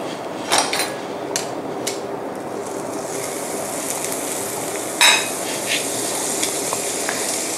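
Margarine sizzles in a hot flat pan with a steady crackling hiss, punctuated by a few sharp metallic clicks and taps.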